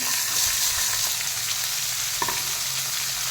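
Cooked vegetables frying in a hot pan for vermicelli chitranna, a steady close sizzle with occasional stirring scrapes and clicks, no voices.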